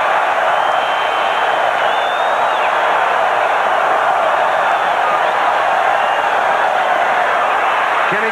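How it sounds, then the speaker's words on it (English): A large football stadium crowd at a Houston Oilers at Oakland Raiders game gives a steady, dense roar that stays even and loud throughout, with no distinct cheers breaking out. "Listen to the crowd."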